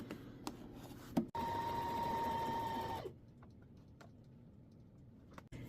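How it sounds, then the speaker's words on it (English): A sewing machine stitches a hem line on a pair of pants, running slowly and steadily for about two seconds with a whirring motor tone, framed by a few clicks and taps before and after. "I'm going to go slow and stitch a line."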